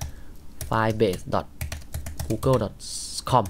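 A web address is typed on a computer keyboard in quick bursts of light key clicks, heard under someone talking.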